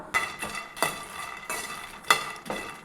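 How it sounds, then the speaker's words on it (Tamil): A spoon scrapes and rattles lotus seeds (makhana) dry-roasting in an empty pan over a low flame, in rhythmic stirring strokes about every half second, close and fairly loud, with no voices. "இந்த வெறும் வானலில் போட்டு நம்ம வறுத்து எடுத்துக்கலாம்."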